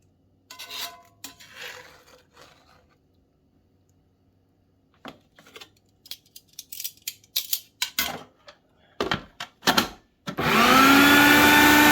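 Fire-roasted tomatoes for salsa are dropped and handled with scattered clatter and scraping. Then a food processor starts and whirs loudly and steadily for the last couple of seconds.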